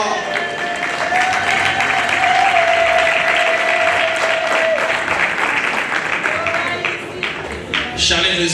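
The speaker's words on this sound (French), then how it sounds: "Est-ce qu'on peut faire des temps d'ovation ce soir?" Wedding guests at a religious ceremony burst into sustained, dense applause that fills the hall at a steady loud level for the whole stretch, with a few voices mixed into the clapping.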